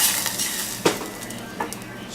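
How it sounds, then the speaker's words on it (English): Bean liquid stirred into pork frying in a pot over a fire, a steady close sizzle with scraping stirs and a couple of sharper clanks against the pot. "Stir that around."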